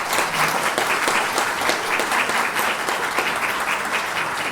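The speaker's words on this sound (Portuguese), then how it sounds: "Acho que merece mais uma salva de palmas." An audience at a lecture on e-commerce and data protection law gives the speakers a round of applause, dense continuous clapping held steady from start to finish.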